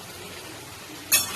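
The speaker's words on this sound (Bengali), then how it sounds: "এবার একটু ঢাকাটা খুলে দেখব" Pot lid lifted off a pot of chicken steaming on the stove, a single bright metallic clink near the end after quiet kitchen background, close and fairly soft.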